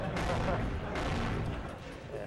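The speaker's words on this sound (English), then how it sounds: "These rockets are very, very loud." Loud rockets in the PS1 game Spyro: Year of the Dragon, played during a speedrun, blast in dense bursting explosions at full volume, with a voice talking beneath them.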